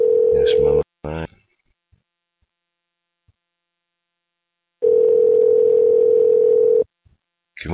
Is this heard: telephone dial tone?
yes